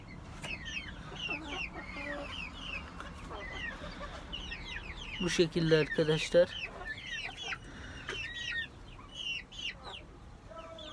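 Chickens cluck and chatter steadily nearby in a muddy coop, with a louder flurry of squawking in the middle, while someone speaks briefly over the flock.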